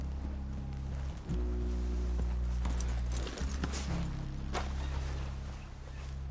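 Horse hooves clip-clopping in Red Dead Redemption 2, a close, rhythmic walking gait with a steady low rumble underneath and a few sharper hoof strikes, no talk.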